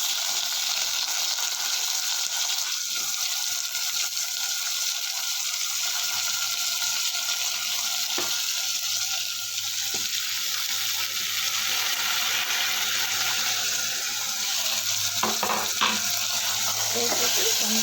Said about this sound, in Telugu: ఇప్పుడు మనం కట్ చేసి పెట్టుకునే టమాటా ముక్కలను వేసేసుకున్నాము